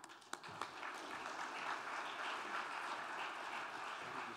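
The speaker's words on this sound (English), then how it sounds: "round of applause" An audience at a medical conference gives a round of applause, a faint, distant, continuous wash of many hands clapping with a couple of sharper claps near the start and no speech over it.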